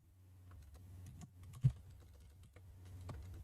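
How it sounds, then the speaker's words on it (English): Typing on a computer keyboard, quiet scattered keystrokes with irregular rhythm and one sharper, louder key hit near the middle, close and alone over a low hum. "Hitting multiple keys."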